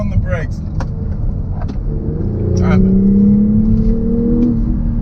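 A 2020 BMW X3 M40i accelerates hard on the road, its engine droning louder and rising in pitch as it pulls. Brief exclamations from people inside the car come over the engine.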